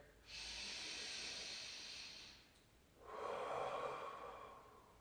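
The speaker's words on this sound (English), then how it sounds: "We're going to take 3 breaths here." Slow, deep breaths during a yoga forward fold: a long hissing inhale, a pause, then a fuller exhale, close and quiet with no talking.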